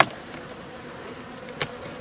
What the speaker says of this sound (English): Bees aren't liking this 40-degree temperature.